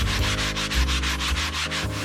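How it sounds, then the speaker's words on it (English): Sandpaper lightly rubs back and forth across a canvas in steady, rhythmic strokes, close and fairly loud, with no talking. "So if I just lightly sand across it"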